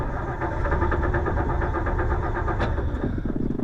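A car engine runs steadily after the choke is tried, after sitting unused for almost a month with a low battery, giving a continuous, close mid-pitched rumble with no break.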